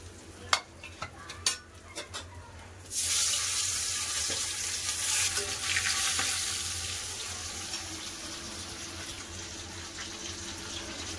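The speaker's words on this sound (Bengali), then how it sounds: "তেল গরম হয়ে গেছে, এবার মাছ ছেড়ে দেবো।" Fish going into hot mustard oil in a home kitchen, a loud steady sizzle starting suddenly after a few light clinks and taps, then continuing near and strong, slowly easing off, with no talk.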